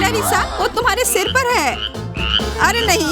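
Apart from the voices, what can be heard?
frog croaking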